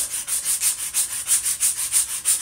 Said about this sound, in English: it's easier with sandpaper to keep this true and round